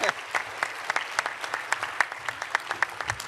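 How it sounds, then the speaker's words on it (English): Audience claps for a physician leadership panel at a direct primary care summit conference, a fairly sparse, moderately quiet round with distinct individual claps and a few voices. "Let's get another round of applause for this panel."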